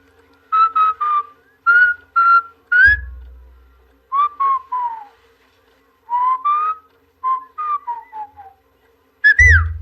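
Someone whistles a lively tune in short bursts of bright, clear notes, close and loud, with brief pauses and a couple of breathy thumps.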